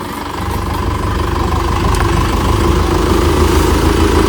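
A tractor engine runs at a steady, loud, chugging idle in a village field, close by and continuous without a break, with no voices over it.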